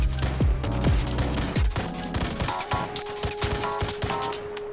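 Rapid rifle fire from the Tactical Rifle ability in Roblox War Machines, with dense bursts of loud synthetic shots, booming low impacts early on and a steady electronic tone underneath.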